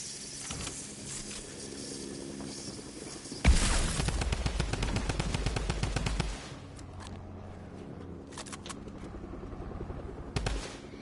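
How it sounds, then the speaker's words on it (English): Gunfire in the Fortnite video game, with a loud, dense burst of rapid shots around the middle of the clip and a quieter, steady game background before and after it. "I'm spamming that gun"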